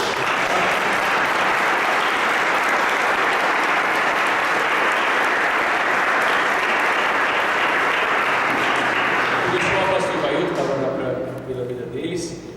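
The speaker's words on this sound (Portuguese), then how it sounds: "E eu queria então dar uma salva de palmas a Jesus pela vida dele" Dense, sustained applause fills a room during a vocational retreat round-table as a crowd claps for Jesus, steady and loud before thinning out near the end while voices emerge.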